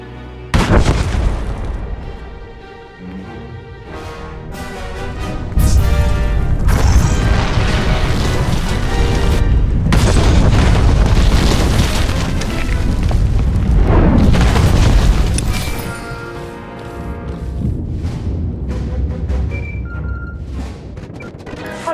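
Loud, continuous explosions and booming blasts from the video game Star Wars: The Old Republic, with rumbling debris and layered impacts filling the scene, no speech over them.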